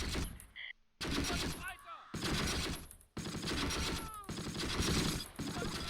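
Gunfire rages through a Close Combat video game battle, with dense overlapping bursts and shots crackling almost continuously, broken by a couple of brief gaps, loud and busy throughout.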